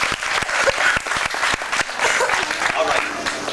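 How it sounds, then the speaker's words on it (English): Audience applause rises as a volunteer is called up to stand at a live Disney show: a dense, continuous crowd of clapping hands, steady and fairly loud across the whole stretch, with scattered sharp individual claps standing out near the front. "Put your palms together"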